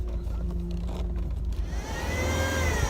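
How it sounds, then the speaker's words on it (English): A steady whine from a faulty or aftermarket pump on a Subaru car, a thin high tone over the low engine hum, rising and sweeping as the engine revs. "either the pump I got is bad or it's just I need an OEM pump because I still have this whine"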